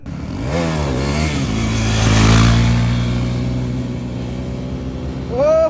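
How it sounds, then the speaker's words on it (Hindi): KTM Duke 390 motorcycle engine revving during a wheelie, rising and falling with a sustained loud roar and a sharp rev climbing again at the end. "अभी दीप ब्रो का व्हीली देखेंगे, अभी उसका व्हीली देखते हैं।"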